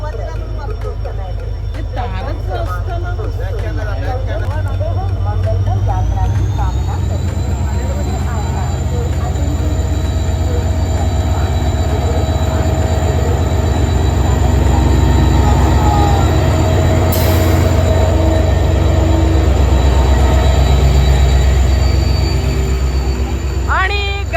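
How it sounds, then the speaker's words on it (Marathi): A train rumbles past loudly and steadily for a long stretch, wheels squealing with a high metallic whine, with people talking faintly underneath. "ही बघा ट्रेन इकडे"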